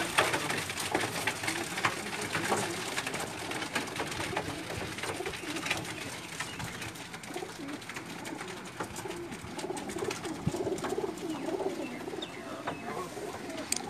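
Pigeons coo steadily at close range throughout, layered soft calls mixed with rustling and faint knocks, with no one talking.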